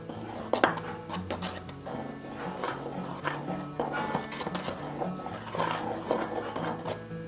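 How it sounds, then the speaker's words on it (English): A metal measuring spoon stirs a thick peanut butter mixture in a bowl, producing soft scraping and light clinks against the sides, quiet and close with irregular rhythm. "And I'll just give these a quick little stir with my measuring spoon here."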